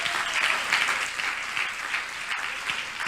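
Congregation applauding in a church, a full, sustained round of clapping from many people that swells and dips slightly, loud and close, with a faint voice underneath.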